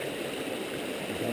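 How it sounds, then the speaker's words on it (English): Water is dumped from a prospecting bucket holding fine gravel overburden, making a steady rushing splash that sounds close and fills the short moment without a break. "Go ahead and dump the water out."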